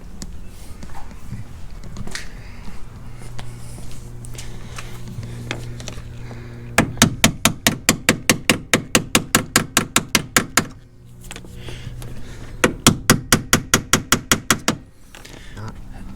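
Rapid bursts of sharp hammer blows drive a stubborn plastic rivet into an aftermarket cold air intake on a Jeep Grand Cherokee SRT 6.4, two quick volleys of evenly spaced, close strikes over a low background hum.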